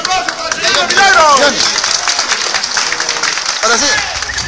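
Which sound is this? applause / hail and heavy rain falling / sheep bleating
applause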